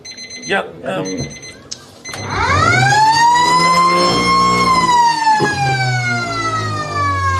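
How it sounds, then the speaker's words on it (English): A loud, sustained half-time siren at an Australian rules football ground wails on a long rising and steady tone after a brief burst of crowd noise, dominating the scene for several seconds. "half-time siren goes here, Royce, in the clash against Jerramungup and"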